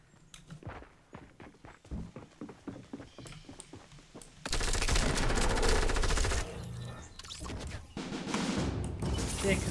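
Gunfire in Fortnite Battle Royale, with scattered shots and footsteps at first, then a loud sustained barrage of rapid firing that returns after a short dip.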